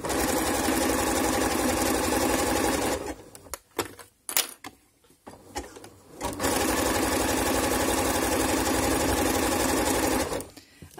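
A sewing machine stitching a zigzag seam on laminette fabric, running in a fast steady mechanical whir, stopping for a few seconds of light handling noises, then running again before halting near the end.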